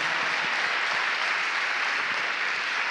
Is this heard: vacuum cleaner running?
no